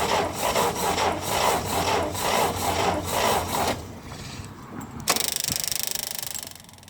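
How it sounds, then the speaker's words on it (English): Fuel pump on a 1960s International Harvester Scout 80 barn find: a rhythmic raspy rumble gives way, after a pause, to a sudden burst of rapid, steady ticking that slowly fades, close up with no talking. "You hear the fuel pump going off every time I let off the ignition."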